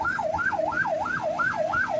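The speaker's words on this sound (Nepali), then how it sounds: "एम्बुलेन्स पनि कराइरहेको छ" An ambulance siren wails in a steady up-and-down cycle, loud and close, in a traffic jam on a Nepali road, with low traffic rumble beneath and no one talking.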